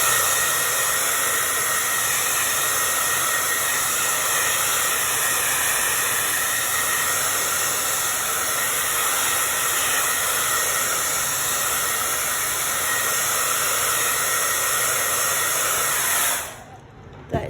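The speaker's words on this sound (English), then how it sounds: "I'm going to just blow it dry quick just to make sure I don't put my arm, hand, or whatever in wet paint." A hair dryer blows wet paint dry in a steady, loud, unbroken whoosh with an airy hiss that runs for a long stretch, then cuts off abruptly near the end.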